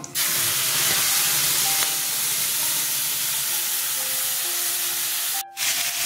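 Chili, onion and ginger hit hot oil already tempered with fenugreek, cumin and nigella seeds, giving a loud, steady close sizzle that dips briefly near the end before hissing on.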